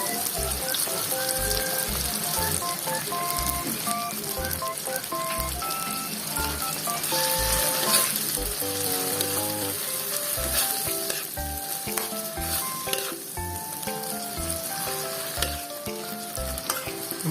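Corned beef fries and sizzles in a pan while it gets stirred, giving a steady close hiss with scraping strokes. Music with a regular beat plays underneath the whole time, and nobody speaks.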